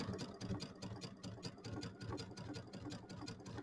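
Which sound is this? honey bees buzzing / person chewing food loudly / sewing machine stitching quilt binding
sewing machine stitching quilt binding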